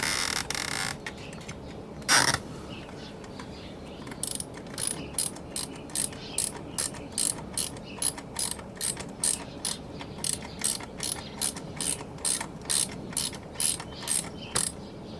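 A ratchet clicks in quick, even bursts while tightening self-locking nuts on the heating unit terminals of a Canadian Spa Haliburton hot tub, close and crisp after a brief knock.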